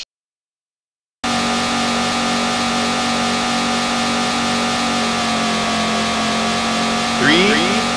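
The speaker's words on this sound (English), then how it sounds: "Gentlemen, start your engines." Race car engines in the arcade racing game Daytona USA hum steadily at the starting grid after a brief silence, with a short rising rev near the end.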